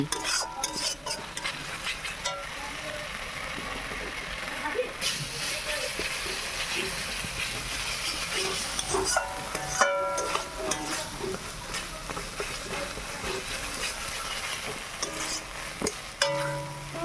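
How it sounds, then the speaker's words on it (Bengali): Masala spice paste fries in oil in a pan under repeated stirring, with a close, moderate sizzle, scraping and occasional utensil clinks throughout. "দেখো আমি খুব সুন্দর করে কষিয়ে নিচ্ছি"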